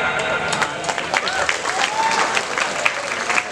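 An audience at a graduation ceremony for a modern Islamic boarding school in Banten claps together in a lively, uneven burst of applause, with scattered cheers and voices mixed into the clapping.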